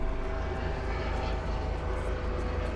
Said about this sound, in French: on va pouvoir démarrer le moteur en appuyant sur la touche Start